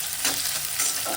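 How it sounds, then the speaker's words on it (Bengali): Chopped onion and green chili being stirred in hot oil make a close, steady sizzle with soft, brief spatula scrapes, heard on their own with no talking. "1 থেকে 2 বার অল্পভাবে নেড়ে চেড়ে নিলাম।"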